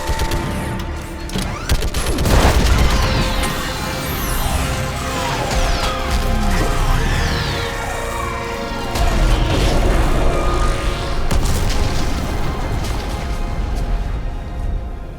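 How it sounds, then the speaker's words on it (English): Orbital strike explosions in Mass Effect 3, a sci-fi shooter: a dense, loud barrage of booms, crashes and rumbling blasts with sweeping whooshes, continuous for the whole stretch and no talking heard. "I need an orbital strike."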